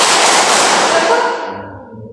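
Hand claps from a classroom of people playing a clapping game ring out loud and dense at first, then trail off over a couple of seconds into quiet.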